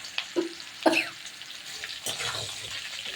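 Taro stolons tipped into hot oil tempered with cumin, bay leaf and dried chilli: a few clattering drops, then a steady close sizzle with light stirring scrapes.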